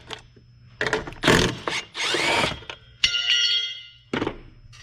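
In the engine bay of a Crown Vic, brackets come off under hand and power tools: short bursts of whirring and ratcheting, a few metallic clunks and clicks, close by and separated by quiet pauses.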